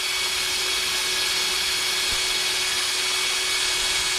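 A power tool runs a 240 grit abrasive around a port, giving a steady high-pitched whirring grind with a sustained whine, close by and continuous, with slight shifts as the bit moves.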